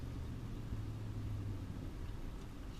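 A pickup truck with a 4-speed automatic transmission drives onto a highway, heard from inside as a steady, low engine and road rumble with a faint tonal drone, fairly quiet and even throughout.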